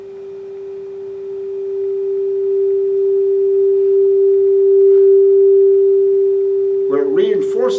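A steady pure sine tone hums inside a cylinder at constant pitch and loudness for several seconds, with a voice starting to speak over it near the end.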